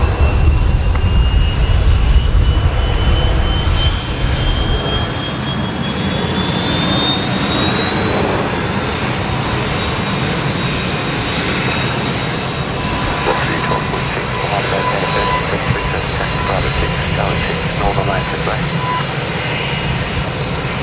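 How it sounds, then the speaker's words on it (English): A Rolls-Royce jet engine starts up on an airliner at Brisbane Airport, its whine climbing steadily in pitch over a broad, continuous rumble that holds for a long stretch. Heard from outside at moderate distance, with a voice talking early on. "let's enjoy the Rolls-Royce Taze here on startup"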